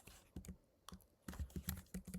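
Keys tapped on a computer keyboard during HTML coding practice, coming in short irregular bursts of soft clicks with brief pauses between them, close and fairly quiet.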